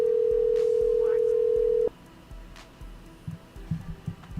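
A telephone line gives a steady, loud dial tone for about two seconds, then cuts off. Quiet clicks and faint voices follow.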